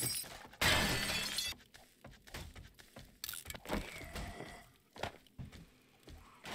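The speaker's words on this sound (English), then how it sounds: "We smash these windows" Glass windows being smashed in the survival video game 7 Days To Die: a loud shattering burst early on, followed by scattered crunching knocks, debris clatter and footsteps.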